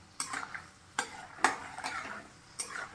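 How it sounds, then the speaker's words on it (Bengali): Peanuts frying in a pan and being stirred, with sharp scraping bursts at irregular intervals over a soft, steady sizzle. The sound is close and there is no talking. "এখানে একটু আমি মৌফলি বাদাম এটাও ফ্রাই করতে বসিয়ে দিয়েছি।"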